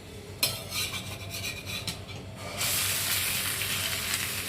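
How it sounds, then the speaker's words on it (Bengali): A moong dal chilla fries in oil on a tawa while a spatula scrapes and flips it, with a steady close sizzle that grows louder and fuller partway through. "দেখো শুকিয়ে এসেছে, এবার আমি পিঠটাকে উল্টে দেবো।"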